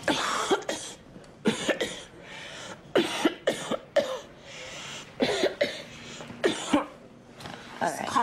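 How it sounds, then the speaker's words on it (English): A man coughing repeatedly in a hospital exam room, a series of harsh, close coughs in irregular bursts, with faint talk between them. "This cough is a pain in the ass."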